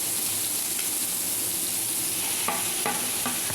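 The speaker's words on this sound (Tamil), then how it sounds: "உப்பு போட்டுக்கலாம். கொஞ்சம் உப்பு போட்டால் தான் சீக்கிரமாக வதக்கும்." Mixed vegetables sautéing with salt in a pan give off a continuous, even sizzle, close and steady, with a few light stirring clinks near the end and no talking.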